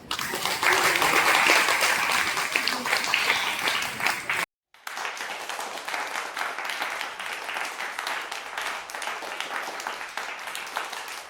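An indoor club audience at a Charter Day and Gandhi Jayanti gathering in India claps loudly and steadily, stops abruptly for a moment, then resumes as a slightly softer, continuous round of applause.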